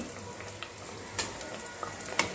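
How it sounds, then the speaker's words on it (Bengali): Raw potato snacks fry in hot oil in a wok, giving a steady, soft crackling sizzle throughout with a few brief sharper pops. "আস্তে আস্তে এগুলোকে ভাজা করে নিতে হবে"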